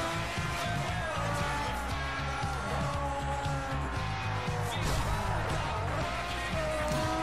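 Racing game car engine in Forza Horizon, a steady droning motor with shifting pitch as the car is driven over a longer stretch, continuous and fairly loud with a busy game soundtrack or effects layered underneath.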